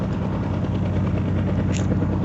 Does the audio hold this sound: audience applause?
no